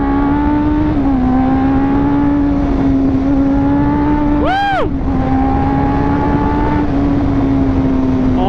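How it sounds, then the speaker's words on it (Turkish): A Suzuki GSX-R 1000cc sport motorcycle engine idling loud and close, holding a steady high drone and then giving one sharp rev that climbs and falls back to idle. "Arkadaşlar binlikler arasında bence en güzel sese sahip olan e, marka mı diyeyim motor mu diyeyim Suzuki abi."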